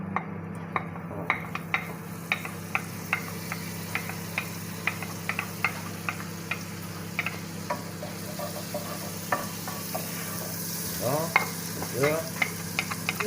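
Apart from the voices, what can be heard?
butter melting and sizzling in a pan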